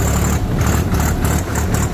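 Modified Swaraj tractor engine idling steadily nearby, a loud, continuous low rumble with a slight rhythmic throb and no voices over it.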